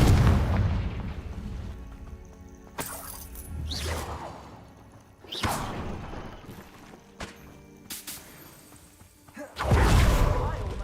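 Fiery Confringo spell blasts in Hogwarts Legacy burst out as a few deep booms with swooshing tails, spaced several seconds apart over a rumbling game backdrop, with some voices in between.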